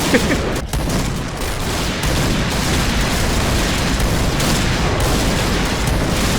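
Sustained gunfire barrage in a first-person shooter game, Point Blank, with dense overlapping shots and booming bursts filling the whole stretch at high, steady loudness.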